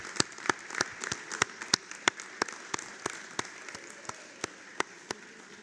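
Audience at a Doctor of Physical Therapy graduation ceremony clapping, a steady crowd of applause heard from a distance with scattered louder individual claps standing out, no voices.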